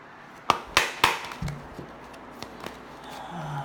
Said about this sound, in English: I already pre-shuffled and cleared my cards, but I'm doing it again in front of you